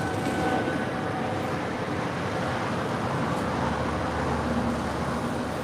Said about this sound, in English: that is Air Canada 778 off to Montreal